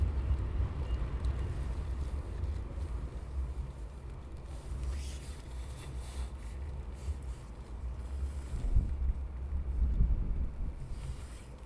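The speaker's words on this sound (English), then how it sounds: "It's typical with the wind picking up," Wind gusting steadily outdoors at night near an air base, a continuous rough rumble buffeting the microphone, swelling louder toward the end, no talk.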